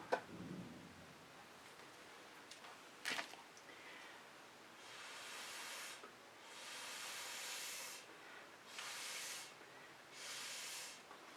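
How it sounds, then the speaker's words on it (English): Soft breathy puffs of air blow across wet fluid-art acrylic paint, several separate gusts of hiss in a quiet room, faint and close with short pauses between them. "I'm just blowing on it to mix it up"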